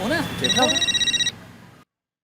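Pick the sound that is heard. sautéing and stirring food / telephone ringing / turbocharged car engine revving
telephone ringing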